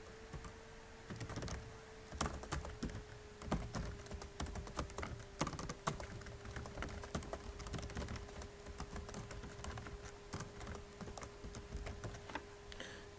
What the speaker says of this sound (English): Type it again.